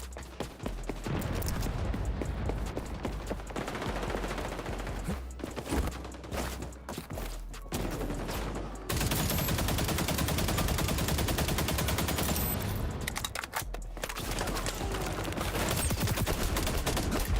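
Video game gunfire from an AK rifle and an MP7 rattles in dense, loud bursts of rapid shots, with a brief quieter lull before the firing resumes.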